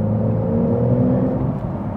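Porsche 992 GTS cruising along the road, a low, steady engine drone with a smooth hum and faint road rumble, continuous and fairly loud from inside the car.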